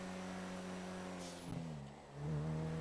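A Ram car in GTA 5 cruises fast at around 150-160, its engine holding a steady hum with a brief dip and shift before revving up louder again, alone without talk.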